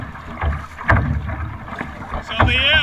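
Paddles of a dragon boat crew pull lightly through the water in steady, evenly spaced splashes, with wind buffeting the microphone and a voice briefly calling out near the end.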